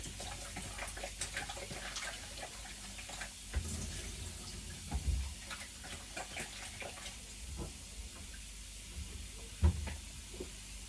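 Goat meat is rinsed under a running kitchen tap, the water a faint, steady flow broken by soft knocks and clinks as the meat and bowl are handled.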